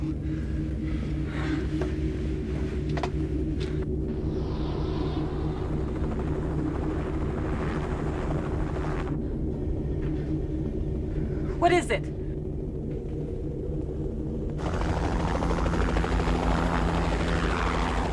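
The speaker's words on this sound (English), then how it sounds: "Helicopter." Constant low rumble and rhythmic thumping of a helicopter flying nearby in a 1988 TV series scene, continuing throughout while a person briefly asks a question over it.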